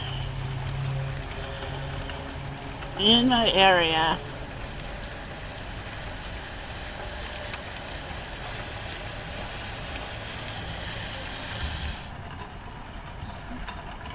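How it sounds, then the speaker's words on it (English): Hard rain falls steadily with a dense, constant hiss throughout, and a person speaks briefly near the start over the downpour. "it's raining again."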